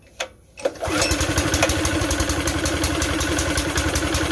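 A CH Extreme gas air compressor engine cranks with a couple of short bursts, then catches and settles into a steady, loud, close running chug with a regular pulsing rhythm.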